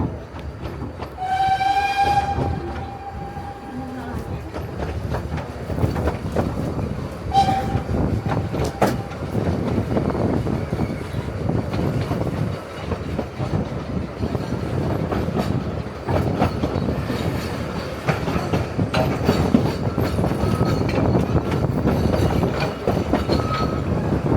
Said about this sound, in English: So we're just leaving another train station.